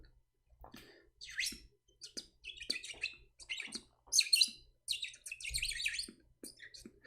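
A man whistles on a live broadcast, giving short chirpy bird-like phrases in scattered bursts that sound close and moderately loud, with quiet gaps between them and no talking.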